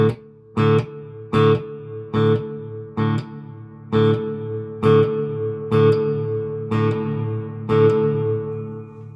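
Concert hall reverb on a Fender Super Champ X2 tube amp, with an electric guitar striking about a dozen sharp chord stabs in a steady rhythm while a long, washy tail sustains between them, close and prominent with no voices.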